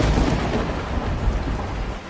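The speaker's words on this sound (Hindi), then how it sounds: "फिर बहुत जोर जोर से बारिश होने लगती है" Heavy rain pours in a dense, loud roar while thunder rumbles deep and continuous underneath, a steady storm sound effect with no voices.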